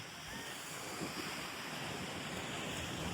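Sea waves wash steadily onto the seashore near a temple, a broad continuous roar of surf mixed with wind buffeting the microphone, with no talk.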